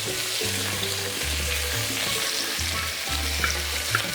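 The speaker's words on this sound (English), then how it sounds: "So keep stirring that up. And I want you to add your garlic behind that as well." Garlic sizzles steadily in a hot pan while a Virgin Islands fish and fungi dish is cooked, with a continuous close frying hiss and intermittent low scraping and stirring strokes throughout.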